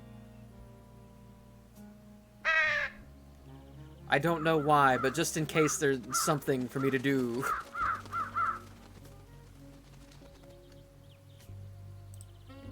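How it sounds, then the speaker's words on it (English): Crows caw repeatedly in Trüberbrook, first one short call, then a busy, overlapping burst of harsh caws that gradually thins out, with someone talking over the birds. "Crows, come to this tree."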